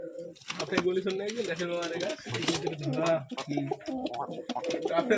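Domestic pigeons of a Rajshahi fancy breed cooing repeatedly at close range, a pair with feathered feet, with people talking over the calls throughout.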